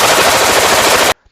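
Sustained fully automatic burst from an M249 belt-fed light machine gun chambered in 5.56mm, a loud, dense rattle of rapid shots running about a second before cutting off abruptly into near silence.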